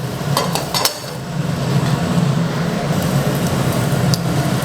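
Shrimp and glass noodles simmer in a pan over high heat, a steady loud bubbling sizzle with a few brief metallic clinks of a utensil near the start, no talk.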